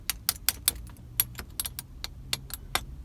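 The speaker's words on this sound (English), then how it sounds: "I touch it to the metal. Look at what a clinging sound it is making." A metal key taps repeatedly against the metal trim inside a Rolls-Royce Cullinan, making a quick series of bright, sharp clinks at an uneven pace, close up, with no talking.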